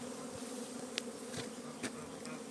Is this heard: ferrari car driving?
no